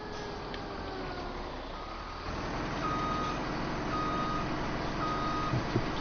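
A truck in Farming Simulator 17 idles with a steady engine drone, then its reversing alarm beeps three times at an even pace over the motor.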